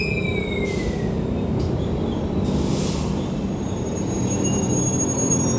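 Argo Lawu passenger train pulling out of track 3 at an Indonesian railway station: steady loud rumble of rolling wheels with high metallic squeals and hissing brake sounds, continuous throughout and close by.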